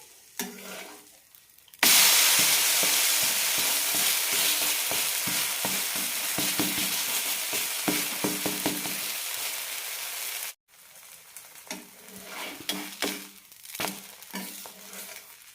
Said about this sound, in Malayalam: ഇതിലേക്ക് കുറച്ച് എണ്ണ കൂടി ഇടാം തിരിച്ചിട്ട് കൊടുക്കാം